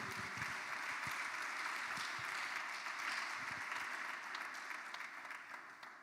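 A church congregation applauding at a French-language seminar service, sustained dense clapping from a large crowd that holds steady for several seconds before easing slightly, heard at a moderate distance.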